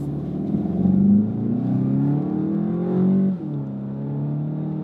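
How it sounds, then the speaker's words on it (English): A 2015 VW Golf GTE plug-in hybrid accelerates hard uphill, its engine note steady and close, climbing in pitch as revs build, easing briefly, then pulling on. "even if I go uphill and I pressure the throttle very hard"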